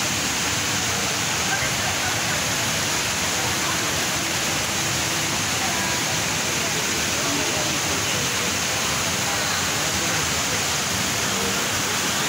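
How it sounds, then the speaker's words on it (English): The 40-metre indoor rainforest waterfall at Jewel, Changi Airport, Singapore, pours in a steady, loud, dense roar of cascading water that holds even throughout, with faint crowd murmur mixed beneath. "See the water falling from a height of 40 meters, cascading down below."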